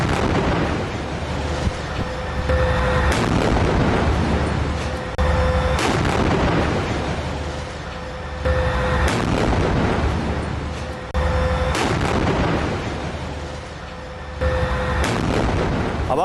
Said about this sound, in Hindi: बिल्कुल सामने की बिल्डिंग है और वहीं पर ये टैंक किस तरह से सामने बिल्डिंग पर अटैक कर रहा है